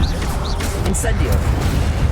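Incendio fire spell cast in Hogwarts Legacy, a burst of whooshing crackle and impacts heard under a speaking voice during combat.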